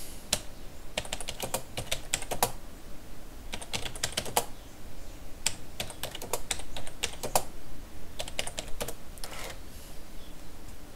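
Steady rapid typing on a computer keyboard into a game chat box, with clustered keystrokes in bursts and brief pauses, close and clear with no talking.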